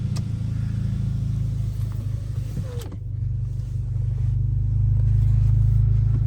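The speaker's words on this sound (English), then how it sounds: "Just go ahead and fire the car up." An Audi S3 Sportback quattro engine idles with a steady low rumble, rising slightly in level toward the end; no clear starter crank is heard.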